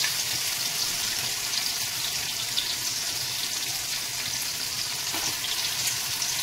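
Taro greens (kochu shak) cooking with hilsa head hiss and sizzle steadily in a karai, a dense, continuous near frying crackle with no talking.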